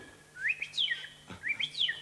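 A man imitates a golden oriole by whistling, two fluting, rising-and-falling phrases of liquid notes, close and clear with nothing else heard.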